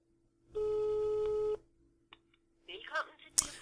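A single outgoing phone ring tone sounds for about a second as a call waits to be picked up, followed by quiet and then brief faint voices.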